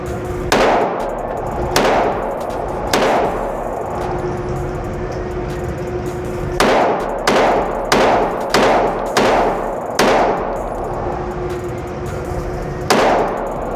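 A TriStar APOC Compact 9mm pistol fired at an outdoor range: about a dozen sharp reports, some spaced singly and others in quick bursts, loud and close with no talk.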